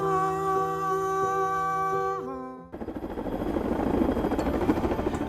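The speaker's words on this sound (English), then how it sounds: "A team of Hilo choppers greet us at Camp Pendleton with a man-made dust storm." A team of military choppers over Camp Pendleton kicking up a dust storm: after a tonal opening, a loud rotor roar with pulsing chop starts abruptly and swells as the helicopters draw near.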